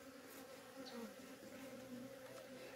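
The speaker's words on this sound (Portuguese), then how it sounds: "tem bastante abelha aqui" A swarm of Africanized honey bees hums steadily and close during a honey harvest outdoors, a dense continuous buzz with individual bees passing by, no talking.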